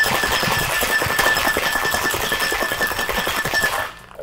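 A metal cocktail shaker full of ice is shaken hard and fast, making a loud, dense, steady rattle close by that stops abruptly at the end.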